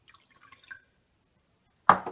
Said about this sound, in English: I've measured up my water. I'm going to pour that into the first one